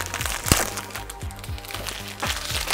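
A plastic blister pack for trading cards being pried open, with continuous crinkling and a few sharp cracks of stiff plastic, close and fairly loud, with no talk.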